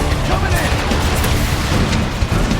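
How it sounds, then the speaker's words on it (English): A rocket explosion in Transformers: Fall of Cybertron, a loud continuous rumbling blast and debris roar filling the short moment up close, with shouted battle voices under it. "Rockets on the right! Rocket coming"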